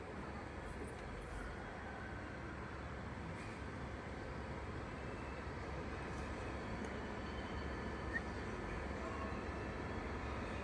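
Busy railway station surroundings on approach to the entrance, a steady dense wash of crowd murmur, traffic and distant rail noise with no single event standing out, evenly loud throughout.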